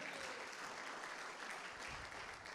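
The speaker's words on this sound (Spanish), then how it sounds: "Denle un aplauso al Señor" A church congregation breaks into sustained, dense applause during a service, steady and enveloping throughout with no speech over it.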